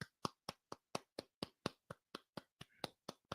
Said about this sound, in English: If you don't clap for me, I'll clap for me.